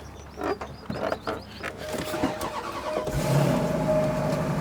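A car engine cranks repeatedly while trying to start with an empty petrol tank, showing uneven, rough bursts that build into a steadier churning noise toward the end, close by with no talk.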